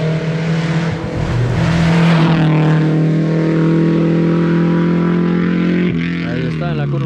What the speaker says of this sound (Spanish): os voy a poner en directo por la camarina cómo pasa un coche por ahí